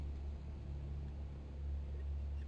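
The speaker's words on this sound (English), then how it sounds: "we got a big old diesel driving by" A big diesel vehicle passing, a steady low rumble and engine drone that holds throughout without a clear peak.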